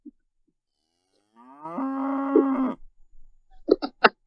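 A single long cow moo sound effect swells and holds for about a second, loud and close, followed by a few brief sharp clicks and knocks.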